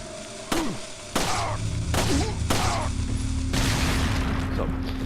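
Dynamite blasts in the video game Resident Evil 4 go off in a sequence of about five sharp, loud booms with short rumbling tails, over a steady game backdrop with some talk and voice sounds.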